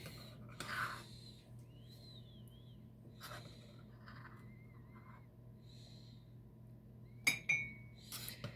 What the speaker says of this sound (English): you just spoon this top layer off into your cups first